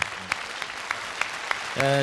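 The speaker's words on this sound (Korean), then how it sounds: "여러분 많은 박수를 부탁하겠습니다." Studio audience applause at a KBS Gayo Stage music broadcast as singers are introduced, a brief wash of clapping with sharp accents, a tone sounding near the end.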